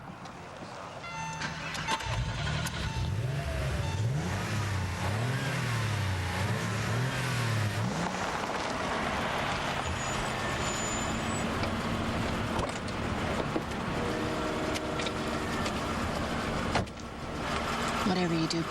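A car engine revs and drones steadily as the clutch is worked, rising and falling pitch under people talking over it throughout.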